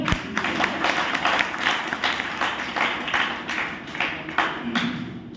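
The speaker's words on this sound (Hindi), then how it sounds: "उनके लिए एक प्यारी सी ताली" An audience gives affectionate applause for a guest introduced from the stage: dense, continuous clapping at a moderate level with scattered sharper claps, and no voices over it.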